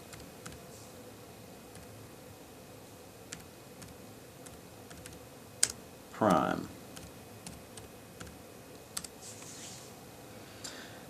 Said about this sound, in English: just typing on the keyboard will initiate a Google search